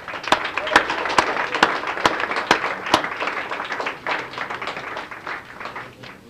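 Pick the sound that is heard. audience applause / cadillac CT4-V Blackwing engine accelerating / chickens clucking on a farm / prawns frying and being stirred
audience applause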